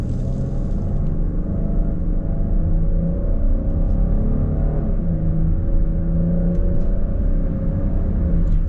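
A 2026 Kia Carnival EX minivan accelerating in sport mode with manual shifting, heard from inside as a steady, loud low engine rumble and road drone that holds evenly throughout.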